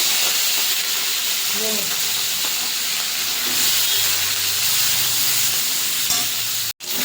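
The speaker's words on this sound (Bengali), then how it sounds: "গরম হয়ে গেছে, চিংড়ি মাছটা ছেড়ে দেবো।" Shrimp dropped into hot oil in a wok-style pan sizzle loudly and steadily, a close, dense hiss running through the whole stretch with a few brief clinks and a short voice underneath.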